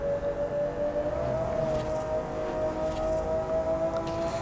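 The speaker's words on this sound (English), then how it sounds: "I think V12s are like God's gift to our ears, because I mean, just listen." A Lamborghini V12 engine in the racing game Forza Horizon holds a steady, high, tonal howl, loud and close, with faint gear shifts barely changing the pitch.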